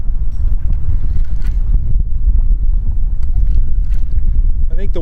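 Wind blowing over the water on a fishing boat out for striped bass along a channel edge, a loud buffeting low rumble against the microphone lasting throughout, with faint voices in the background.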